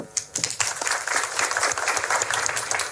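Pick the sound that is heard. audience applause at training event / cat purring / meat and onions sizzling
audience applause at training event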